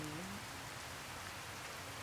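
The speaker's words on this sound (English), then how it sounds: "Just sudden downpour." A sudden rain downpour in the game Fallout New Vegas, a dense, constant hiss of heavy rain holding at an even level throughout, with a brief tonal sound at the very start.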